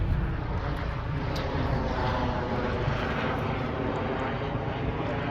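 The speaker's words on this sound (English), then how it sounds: "That's the U of M helicopter." A steady, loud rotor and engine roar fills a garden continuously, a University of Michigan helicopter droning overhead without letting up.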